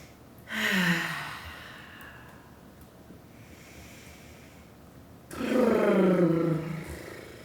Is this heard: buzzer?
no